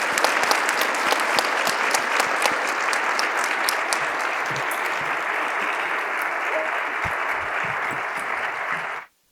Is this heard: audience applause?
yes